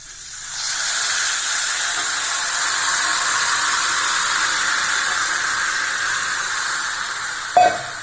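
Tamarind extract is poured into a hot pan while making temple-style puliyodharai, setting off a loud, steady hiss of steam and sizzle that holds evenly, with a brief clatter near the end.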